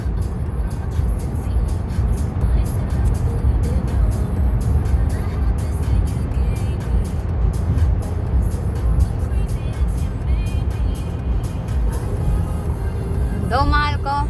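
Ferrari and Porsche cars cruising on a European highway, heard as a continuous loud road roar and engine drone from inside a moving car, with voices talking over it throughout.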